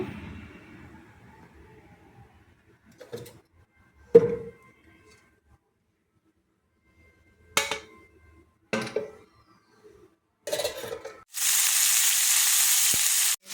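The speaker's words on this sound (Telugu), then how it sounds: "ఇది మొత్తం మంచిగా గోల్డెన్ కలర్ వచ్చేంత వరకు ఫ్రై చేసుకున్నామండి" Bitter gourd is deep-fried in oil. Brief clatters and knocks from a pan break up near-silence, and a dense, bright sizzle rises suddenly near the end and holds steadily.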